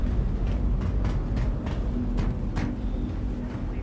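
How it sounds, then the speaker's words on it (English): Train rumble in the Star Citizen video game, a steady, loud rolling roar with periodic rhythmic clacks as the carriage runs along the track toward the spaceport, with no voices. "We're going to hop the train to the spaceport and check out the ship dealer."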